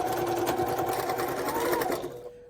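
Sewing machine stitching the outer fabric of a heart pouch with a half-inch seam, a close steady mechanical whir that runs for about two seconds, then winds down and stops.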